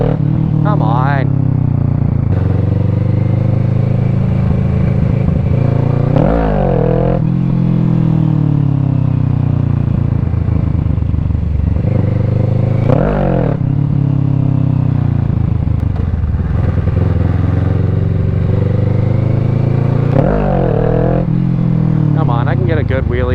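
A motorcycle engine revs hard and repeatedly during wheelie practice, surging and dropping in pitch in loud bursts, with a rider talking over it close by.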